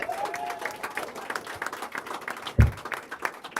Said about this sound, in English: Let's give the Honorable Minister Louis Farrakhan a warm round of applause again